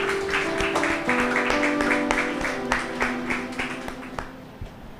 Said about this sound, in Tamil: கைத்தட்டி நன்றி சொல்லமா